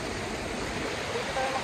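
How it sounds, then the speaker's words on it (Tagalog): A strong, deep river current rushes in a steady, loud roar that fills the whole clip, dense and unbroken like a close waterfall. "Ang lalim tapos ang lakas ng tubig."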